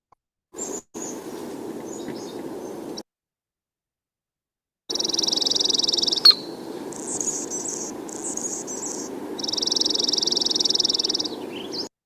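Buzzy, insect-like chirps from a bird's tail feathers during a fast display dive come in two separate runs split by a silent gap, the second longer with sharp high-pitched pulsing bursts.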